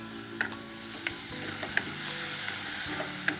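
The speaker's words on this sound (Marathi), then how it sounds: "आपला कांदा परतून झालेला आहे जवळजवळ" Onions sautéing in a pan for dhaba-style shahi baingan give a steady sizzle with stirring, and a few sharp spatula clicks land at irregular intervals, close up, with no talk.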